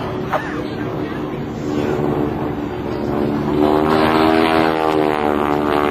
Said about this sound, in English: That's the lead airplane right now.